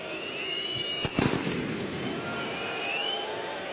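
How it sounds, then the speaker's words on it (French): Firecrackers set off by Servette football supporters inside a stadium during a Swiss Super League match, a quick cluster of sharp loud bangs about a second in, over the steady roar of the crowd. "Et les pétards que vous entendez depuis le début du match viennent tous du même côté, le côté des supporters servétiens."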